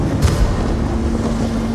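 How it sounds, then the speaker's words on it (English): Strong wind roars in the video game Ghost of Tsushima, a loud and steady gusting rush that stays even throughout with no speech. "It's really windy. It's really loud."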